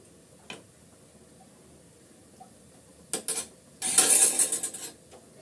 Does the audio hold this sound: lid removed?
yes